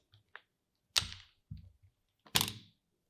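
Grease purges from a U-joint seal on an Adams Driveshaft JK 1310 CV driveshaft while it is being greased with a grease gun. A few sharp, close cracking pops break a quiet background, with two louder bursts among fainter ticks.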